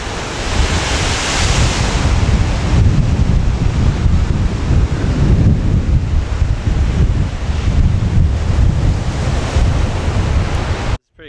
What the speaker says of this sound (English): Like I said, it is very windy.